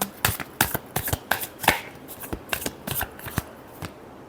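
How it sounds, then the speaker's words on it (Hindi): Tarot cards being shuffled by hand, a rapid series of sharp, close riffling snaps and slaps in an uneven rhythm that thins out toward the end, with no talking over it. "last shuffle"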